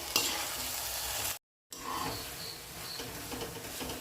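Jaggery being stirred into hot ghee in a pan for a sweet, close and faint: a constant sizzle with scraping stirring strokes and one brief silent break.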